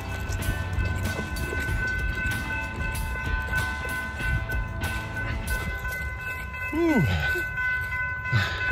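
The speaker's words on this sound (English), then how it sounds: "we got a train coming right now" A Florida East Coast Railway train rumbles steadily past close by at a railroad crossing, with sustained tonal ringing over the noise and a brief rising-and-falling whine near the end.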